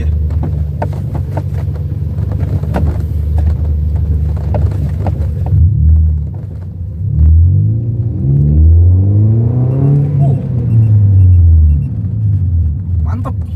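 Toyota Vios engine on a test drive, a loud low rumble under cabin wind noise that swells into repeated rising revs as the car accelerates through the gears, with a voice heard briefly.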